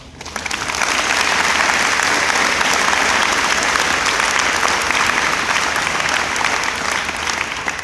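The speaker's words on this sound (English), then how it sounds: "so if y'all could please clap for them" A room full of people at a graduation claps steadily and loudly, sustained applause that swells quickly and holds before easing slightly at the end.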